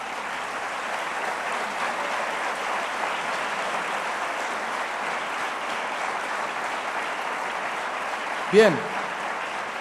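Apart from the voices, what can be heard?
congregation applause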